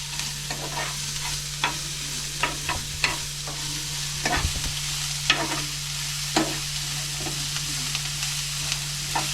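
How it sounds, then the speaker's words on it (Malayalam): Sliced onions fry in coconut oil in a pan while a spoon stirs them, giving a steady sizzle with scattered scraping knocks against the pan, close up and with no one talking. "അപ്പം നമ്മൾ ഒരു ഗോൾഡൻ കളർ ആവുന്നത് വരെ നമ്മുടെ സവാളയൊന്ന് ഇളക്കട്ടെ"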